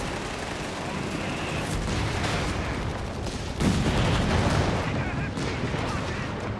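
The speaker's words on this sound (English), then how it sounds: "Flak 36 too slow to hit the Stuart light tanks." Anti-aircraft gunfire from a Flak 36 in the strategy game Company of Heroes 3, heard as dense, continuous battle noise with repeated shots, growing louder and heavier midway through.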